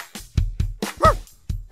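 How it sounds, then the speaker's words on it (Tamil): A dog in a cartoon theme song barks several times in quick, uneven bursts, loud and close, with short yips between the barks and no talk over them. "பிளாஸ் ஒரு சராசரி நாய்"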